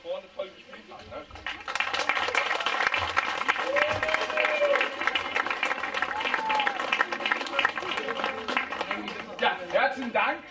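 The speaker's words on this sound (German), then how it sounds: "den Zuschauern natürlich einen großen Applaus an die, die hier vorne toll gespielt haben" A crowd at a girls' youth football cup award ceremony breaks into sustained applause that swells after a brief pause, with voices and a few shouts mixed in.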